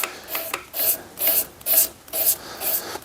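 Fine 400-grit sandpaper rubbed over a small wooden block by hand, a close, steady rasping in repeated back-and-forth strokes, roughly two strokes per second, with short pauses between passes.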